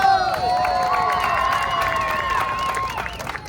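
A Times Square street show crowd cheers and claps throughout, steady and fairly loud, with whoops and shouting voices layered over the applause outdoors.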